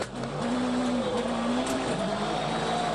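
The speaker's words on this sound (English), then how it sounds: "Tony Kanaan looking very comfortable in this World Rally car." A World Rally car driven hard in a Race of Champions event, its engine note rising and falling as the tires slide, loud and continuous with a sustained whine over gritty road noise.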